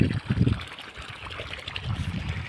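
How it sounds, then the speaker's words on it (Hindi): Water pours and trickles from three 1 hp solar-powered pump motors running together, a steady splashing flow with denser low gushing bursts at the start and end. "तीनों मोटरों को हमने एक साथ चला दिया, जिसमें आप देख सकते हैं अभी का पानी 1 इंच लमसम प्रेशर के साथ पानी निकाल रहा है"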